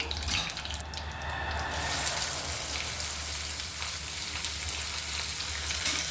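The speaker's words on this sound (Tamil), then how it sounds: "வெங்காயம் நல்லா பொன்னிறமாக வதங்கணும்" Onions sauté in hot oil with bay leaf, cardamom, cumin, cinnamon and cloves for palak paneer, giving a steady, close, even sizzle and crackle that runs throughout without talk.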